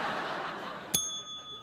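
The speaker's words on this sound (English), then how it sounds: "What happens if I ding the bell a second time?" A single bright bell ding rings out against a quiet murmur, its clear tone sustaining and slowly fading.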